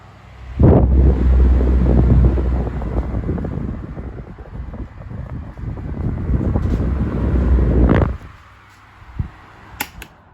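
A 1980s 12-inch desk fan running on its high setting gives a steady, close broadband whoosh for about seven seconds, then cuts off, leaving a few faint clicks.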